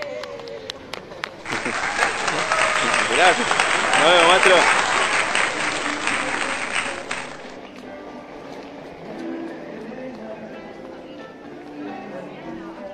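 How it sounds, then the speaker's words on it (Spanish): A street audience claps for a performer in a dense, lively burst of applause lasting several seconds before fading, with nearby voices speaking over and after it. "Bravo, aplaudí, dale."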